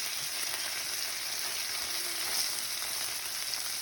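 Liver and onions sizzle in butter and olive oil with a dense, even crackle and hiss that holds steady throughout, close and loud, with no voices.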